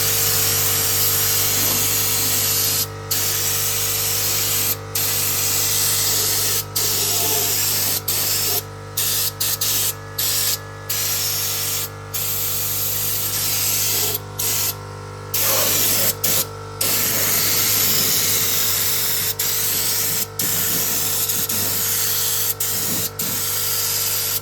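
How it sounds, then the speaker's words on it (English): Undercoating sprays steadily onto the underside of a truck up on a lift, a loud continuous hiss interrupted by many brief stops as the trigger is released. "I can get up underneath that from the backside and spray"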